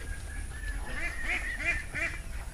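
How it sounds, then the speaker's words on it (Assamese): Farmed ducks kept above a fish pond, a handful of nasal quacks and honks in close succession, moderately near, over low background hum. "ফিচাৰীৰ ওপৰত হাঁহ ৰাখিছে হাঁহৰ ফাৰ্মিং আছে"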